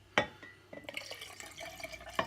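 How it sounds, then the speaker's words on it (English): Water is poured into a container during a home-brewing yeast slurry revival, producing light splashes and drips with a couple of sharper clinks, close and fairly quiet, with no talking. "I'm gonna pour a little more of this water in,"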